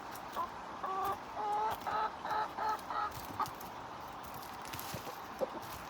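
Several backyard chickens clucking during feeding, a run of close, rhythmic clucks in the first half that fades to a few scattered soft sounds.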